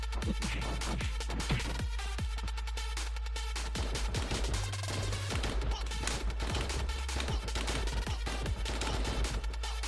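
The Carboy hero in the video game Lost Saga fires rapid gunshots in dense bursts over thumping game music and effects, loud and continuous throughout.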